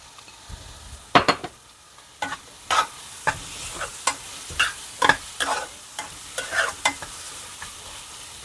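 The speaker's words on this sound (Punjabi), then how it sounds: "ਆ ਵਾਲਾ ਪਿਆਜ਼ ਜਿਹੜਾ ਕੱਟਿਆ ਹੋਇਆ ਸੀ ਹੈ ਨਾ ਇਹ ਵੀ ਵਿੱਚ ਪਾ ਲਾਂਗੇ" Chopped onion fries in a pan and is stirred repeatedly, with a soft sizzle underneath and a series of sharp scraping strokes of the spoon at irregular intervals, close and fairly clear.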